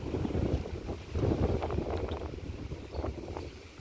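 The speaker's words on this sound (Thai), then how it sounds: "โอ้ลมแรงด้วยครับ" Strong wind sweeps through outdoors ahead of a rainstorm, a continuous heavy rushing with rumbling mic buffeting and gusts surging and easing over several seconds. No voices.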